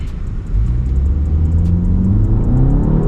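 A 2024 BMW 5 Series accelerates hard in sport mode from inside the cabin, its engine note rising steadily and loudly after a brief pause, with no speech.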